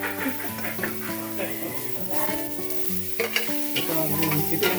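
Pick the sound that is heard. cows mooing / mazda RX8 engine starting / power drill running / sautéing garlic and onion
sautéing garlic and onion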